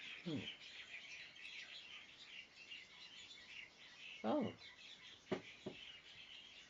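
Faint birds chirp and tweet in the background, and a voice briefly murmurs over the chirping.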